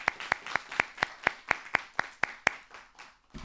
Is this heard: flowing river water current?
no